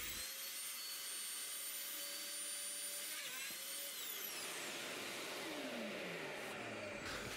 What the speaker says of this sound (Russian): И сначала сверлится отверстие под шканты.